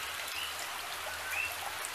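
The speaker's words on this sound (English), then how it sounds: "oh, here comes the rain" Rain falls steadily on an outdoor koi pond, a soft, even hiss of drops striking the water, with a few brighter droplet plinks and no voices.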